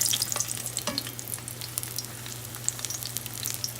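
Cheese pancakes fry in a pan with a steady soft sizzle and crackling spatters, plus a faint low hum underneath, close and moderately quiet, with no talking.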